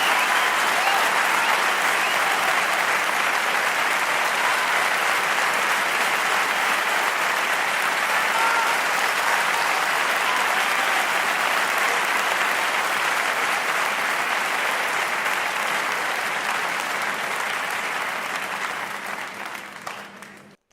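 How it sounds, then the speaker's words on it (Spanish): Steady, sustained audience applause at a live music event, a dense even wash of clapping holding for about eighteen seconds before quickly fading out at the end, with no talk over it. "a dar un fuerte aplauso para ellos"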